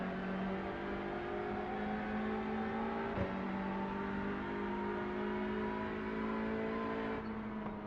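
Hyundai Elantra race car engine held at steady high revs, a sustained droning whine with a brief blip near the middle and a slight dip toward the end, loud and continuous with no talking.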